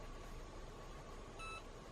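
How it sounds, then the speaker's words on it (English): A small wireless label printer gives one short, faint electronic beep on connecting to a phone, set against a steady low background hum. "and it beeps when it's connected"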